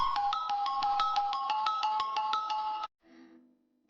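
A mobile phone rings with a fast, repeating electronic ringtone, loud and close, for about three seconds before cutting off. A brief, fainter tone follows.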